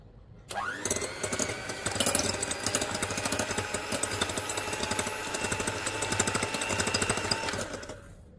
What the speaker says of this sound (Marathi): हे मी इलेक्ट्रिक ब्लेंडरने ही अंडी फेटून घेणार आहे